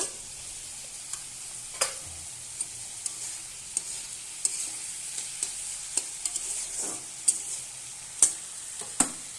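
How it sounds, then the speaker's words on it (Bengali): Sliced bitter gourd fries in a pan with fish head for a Bengali dish, a steady soft sizzle broken by intermittent scraping clicks of a spatula stirring. "এবার আমি ভালোভাবে কষাবো করলাটাকে।"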